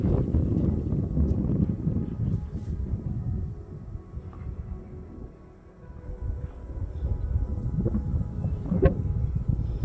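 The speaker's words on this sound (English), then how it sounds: "It's so windy today." Gusty wind buffets the microphone beside a graveyard and church grounds on a chilly August day, a steady low roar that swells and dips, easing briefly near the middle before surging again.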